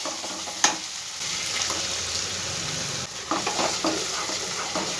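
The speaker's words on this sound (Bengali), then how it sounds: "এবার এর মধ্যে অ্যাড করব আমি বেটে রাখা টমেটোটা।" Ground tomato paste hits a pan of frying spice mixture and sizzles steadily, with stirring scrapes and occasional utensil clinks, close and continuous, no talk.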